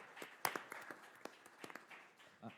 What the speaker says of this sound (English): let's give one more round of applause to these young men and their coaches